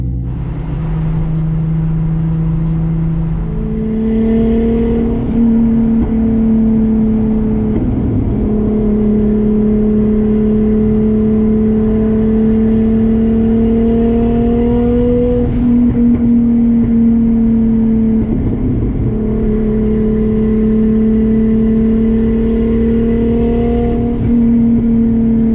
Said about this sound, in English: It's so cool to see so many cool cars out rolling in Auckland City.